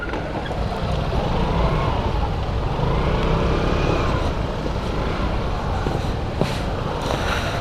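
An Aprilia SR-GT 200 motorcycle rides along at a steady cruise, its engine hum blended with heavy wind rush, loud and continuous with a brief clack near the end and no talking.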